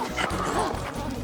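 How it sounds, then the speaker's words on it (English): An excited runaway dog barks and yips in quick, close, lively bursts, with a short whimpering edge, while people talk nearby. "Please, Mr. Metcalf, can we help stop this runaway dog?"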